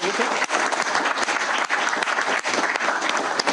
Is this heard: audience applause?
yes